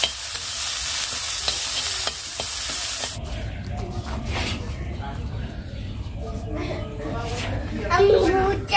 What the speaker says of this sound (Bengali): তো এটা হচ্ছে ভুট্টাটা আমি ভেজে নিচ্ছি লবণ দিয়ে আর একটু সামান্য সর্ষের তেল দিয়ে